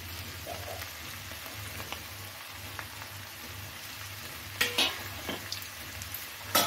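Shrimp frying in a pan for a lau chingri (bottle gourd and shrimp) dish, a steady soft sizzle with a few sharper pops and stirring clinks near the end, close and fairly quiet.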